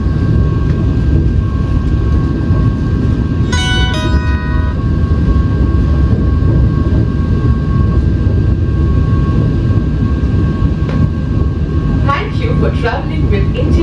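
A Vande Bharat Express on the Udaipur City to Jaipur route makes a constant loud rumble with a low roar. Brief tonal chirps and clicks come through it. The train stands near Kishangarh.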